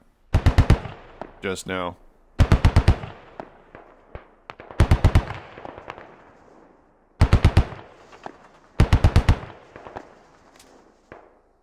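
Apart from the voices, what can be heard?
gunfire at an MRAP in the video game Squad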